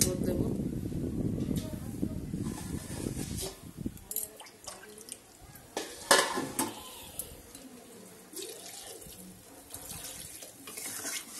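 Liquid gravy is poured into a pan of Bengali fish curry, giving a sloshing, splashing pour for the first few seconds. Scattered clinks and stirring follow, with a voice speaking over the cooking sounds.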